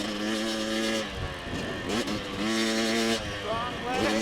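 A dirt bike engine revving up through the gears toward fourth, rising harmonic whine that climbs, drops at each shift and climbs again, loud and close throughout.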